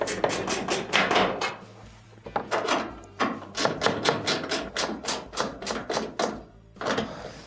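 A ratchet tightening screws on a clothes dryer drum during a baffle repair, giving quick bursts of rapid clicking, close and fairly loud, with short pauses between runs.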